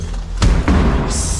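A door is forced open with a loud slam, two heavy close thuds a fraction of a second apart over a rumbling background.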